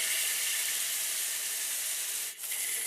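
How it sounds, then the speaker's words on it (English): A steak sears in hot oil in a pan, giving a steady, dense broadband sizzle that stays loud and unbroken for the whole stretch, with one brief dip near the end and no talking. "Let it sear."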